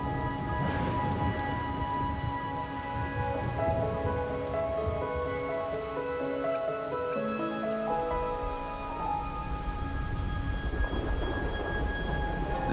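Steady rain and rolling thunder in the video game Wuthering Waves, a continuous dense wash of rainfall with low rumbles, under soft musical tones.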